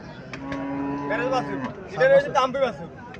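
A deshi cow moos at a crowded cattle fair, with a drawn-out low call followed by a louder, rising second bellow amid background voices and fair noise.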